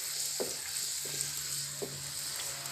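Fish curry with Japanese puti fish simmers in a pan, giving a soft steady bubbling hiss broken by three light scraping stirs of a spatula.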